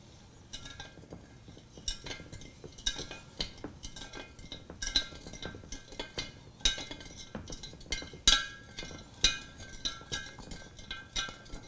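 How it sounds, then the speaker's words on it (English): A metal spoon stirs sugar into a kombucha brew, clinking and scraping against the vessel in a quick irregular rhythm of sharp, close taps throughout. "Next we're going to stir the brew, make sure we get all of the sugar dissolved."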